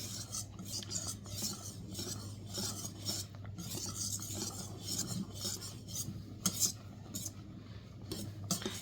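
Beaten egg being stirred into a yeast starter for cinnamon rolls, a steady scraping, rubbing rasp of a utensil against the bowl with small clinks, continuous and fairly close over a low background hum.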